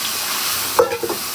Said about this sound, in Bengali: এখন এগুলো কষাবো, একটু ভাজা ভাজা করে নিব